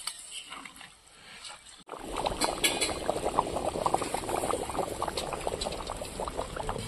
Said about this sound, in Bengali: দুধটা জাল হয়ে গেছিল, আমি চালটা দিয়ে দিয়েছি